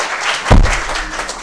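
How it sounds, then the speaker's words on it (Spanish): A Spanish audience breaks into applause after a speaker is introduced, a sudden swell of clapping that starts a moment in and carries on, moderately loud and filling the room. "aplaudid más, más"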